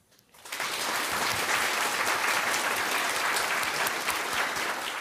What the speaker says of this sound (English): let us applaud Dr. He's outstanding accomplishments